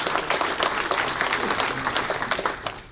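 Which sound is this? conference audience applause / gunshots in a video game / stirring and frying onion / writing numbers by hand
conference audience applause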